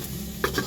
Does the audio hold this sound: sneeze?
no